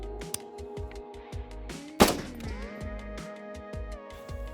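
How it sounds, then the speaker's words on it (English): A single sharp rifle shot, fired while zeroing a Pulsar Thermion Duo DXP50 thermal scope, cracks out mid-clip over a steady tonal background, loud and brief. "we're ready to take another shot to confirm if we're zeroed or not."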